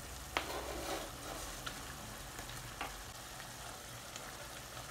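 Mixed-colour bell peppers frying in a pan for fajitas, a soft steady sizzle with a few faint clicks and scrapes of stirring, low and close.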